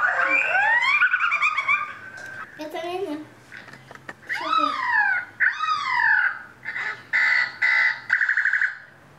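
A parrot lets out a run of shrill, siren-like whoops and warbling calls, loud and close, broken by short gaps with no talking.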